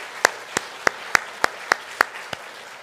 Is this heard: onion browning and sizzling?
no